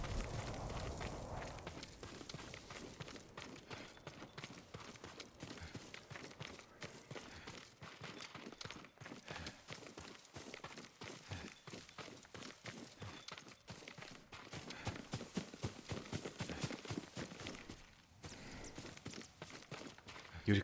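Horse hooves clip-clopping in Ghost of Tsushima, a dense run of quick, fairly faint hoof and step impacts across the whole stretch.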